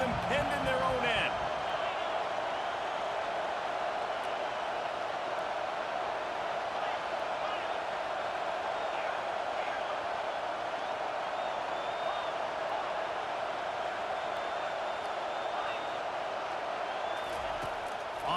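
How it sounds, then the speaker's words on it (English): Steady roar of a stadium crowd in the College Football 25 video game, loud and continuous for the whole stretch while the defense tries to pin the offense deep in its own end, with faint speech underneath. "The roar of the crowd trying to fuel this defense to keep them pinned in their own end."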